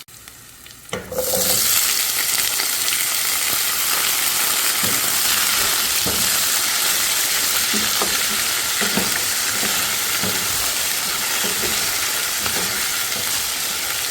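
Sliced potatoes and green chillies sizzle steadily in hot oil for masala aloo, a loud, close, continuous frying hiss that starts abruptly after a quiet second and carries faint stirring knocks.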